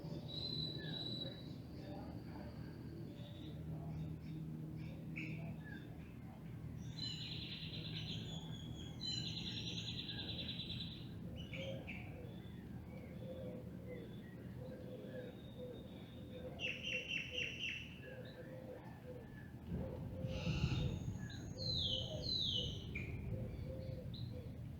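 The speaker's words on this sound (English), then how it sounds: "hopefully you can hear the beautiful bird songs and the crashing waves in the background" Birds chirp and tweet intermittently in the distance over a steady low rumble of crashing waves, with scattered high calls throughout.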